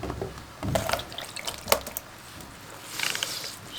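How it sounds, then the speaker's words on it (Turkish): Juice drips and splashes from chopped eggplant being squeezed out by hand over a bowl, a few close wet patters and trickles in quick irregular bursts. "Bu suyunu domatesimizi ve biberimizi sulandırmaması için şöyle hafiften suyunu sıkalım."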